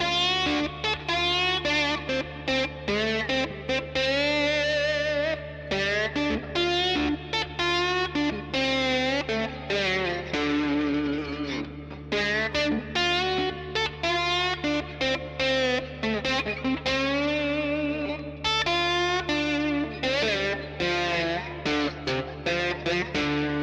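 Electric guitar played with a glass slide through an FSC KB1 Klon-style overdrive pedal into a Vox AC15 amp, gliding notes with rich overtones and grit, sustained and continuous throughout.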